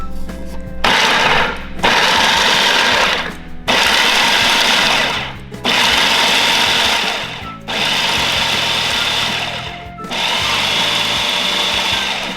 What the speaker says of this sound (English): I'm going to use half of this mixture into the food processor, pulse it, and then we'll add the spices and the salt.